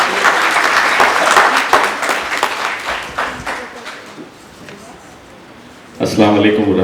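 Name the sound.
loud audience applause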